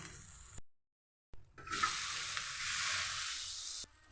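A sundakkai dosa sizzling in oil on a hot pan just after being flipped, a loud hiss rising after a brief silence and holding steady before cutting off.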